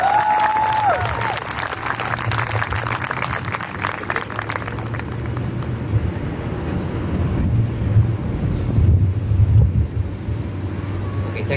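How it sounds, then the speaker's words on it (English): A graduation crowd gives a loud, sustained round of applause at a senior class ceremony, with rushing, wind-like noise and a low rumble running under the clapping. "Please give a round of applause."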